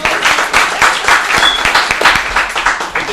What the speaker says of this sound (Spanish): Un aplauso, ¿eh?